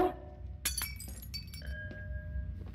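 Glass is shot and shatters in a video game, a sudden burst of breaking shards followed by scattered tinkling clinks and further cracks, close and fairly loud.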